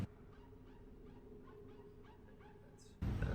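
Dogs bark and yip faintly in the distance from an anime episode, a series of soft, spaced calls under a low steady hum, cut off by a sudden loud burst of noise at the end.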